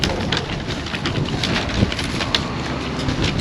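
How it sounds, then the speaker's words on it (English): Strong wind buffeting a microphone outdoors at a free campsite, a continuous loud rumbling roar with gusty bumps and no speech. "Before the wind blows me away"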